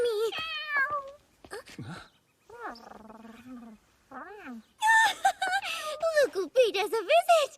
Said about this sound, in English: Look who paid us a visit! A kitty cat!